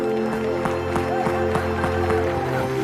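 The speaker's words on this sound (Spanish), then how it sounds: "Vamos a celebrar, aplaudir al Señor." A church congregation claps in steady rhythm along with worship music during a celebratory service, a brisk even beat of hand claps that persists throughout over sustained musical tones.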